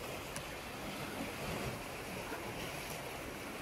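Ocean surf washes against the rocky coast of Cyprus near stairs leading down to the water, a dense continuous roar of breaking waves mixed with wind noise and no talking.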